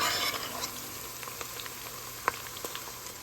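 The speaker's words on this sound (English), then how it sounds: "half teaspoon of fennel seed, half teaspoon of cumin seed, 150 grams of onion slice, and saute for" Onion slices sauté in oil with bay leaf, fennel and cumin seed for vegetable pulao, a steady soft sizzle with occasional pops and stirring clicks.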